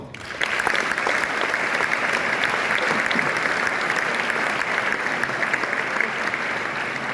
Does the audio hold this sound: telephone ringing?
no